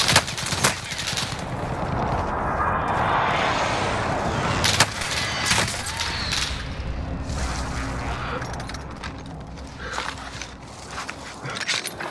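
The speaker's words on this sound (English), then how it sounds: "Precision airstrike." Precision airstrike explosions in a combat video game: a long, dense barrage of rumbling blasts and sharp cracks, loud and continuous, with a big swelling roar early and scattered impacts trailing off toward the end.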